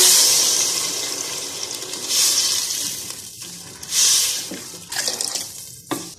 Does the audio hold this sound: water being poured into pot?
yes